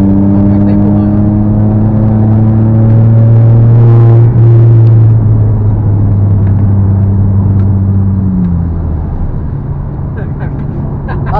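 A Volkswagen Polo with an STG3 tune revs loudly from inside the cabin, its steady engine drone rising in pitch and then dropping back, with a constant rumble filling the whole stretch.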